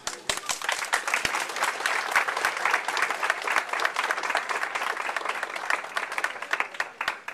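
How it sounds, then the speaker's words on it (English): Dinner guests at a centennial dinner in a country club ballroom give sustained applause, dense and even clapping from a crowd that carries on steadily without a break. "we could give them appropriate applause"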